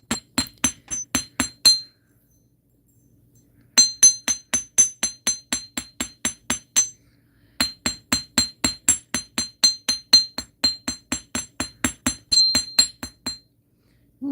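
Metal wire textured with a hammer on a hard block, bursts of sharp ringing metallic taps in quick even rhythm, several groups separated by short pauses, close and loud.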